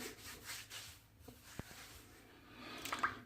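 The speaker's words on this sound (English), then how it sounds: "Now I'll get lathering up here." Brush lathering a coffee and honey scented shaving soap in a tub, a soft, steady wet rubbing and swirling close by, with a few small taps and squishes and no talk.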